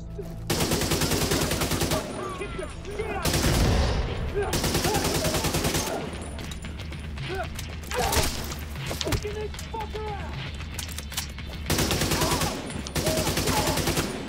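Automatic fire from an AK rifle in The Division 2, loud repeated bursts of gunshots separated by short pauses, with impacts and game effects between the volleys.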